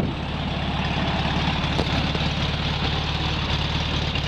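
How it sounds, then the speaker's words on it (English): A 1970 Volkswagen Beetle engine idling steadily up close, a continuous low rumbling drone with an even, unbroken tone and no voices. "And there's the engine running."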